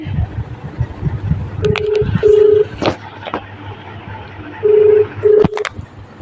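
Two pairs of short, buzzy telephone ringback tones, a few seconds apart, heard on a phone line over background noise and a few clicks.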